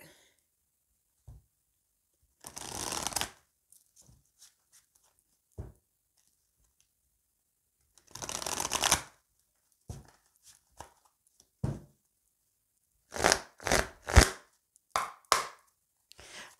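Sacré-Cœur oracle cards being shuffled and cut, coming as several short bursts of papery riffling and soft taps spread across the clip, close and fairly quiet.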